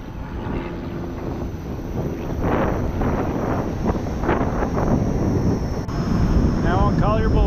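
Strong headwind buffets the microphone while riding a Gotway Monster electric unicycle on an open road, a loud continuous roar with gusts that swell toward the end, and a voice faintly underneath.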